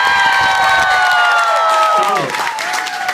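A concert crowd at Jammin' Java roars with loud, dense applause and cheering for a performer, with shouts and sustained tonal sounds running through the noise.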